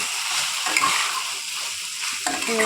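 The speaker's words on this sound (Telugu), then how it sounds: "ఇట్లా కలుపుకుంటూ ఉండాలి కలుపుతా ఉండాలి కింద అడుగు పడుతుంది" Coriander chutney being stirred in a thin kadai, a spoon scraping steadily across the metal bottom with a soft sizzle underneath, close and moderately loud, with a couple of sharper scrapes near the end.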